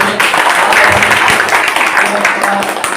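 Loud, dense applause from a crowd at a political protest rally of the BNP in Sadullapur, steady throughout with voices mixed in under the clapping.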